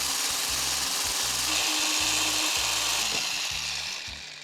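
Electric blender whipping egg whites into a frothy meringue, a loud, steady high-pitched whir running throughout with a rhythmic low thumping underneath, easing off slightly at the end.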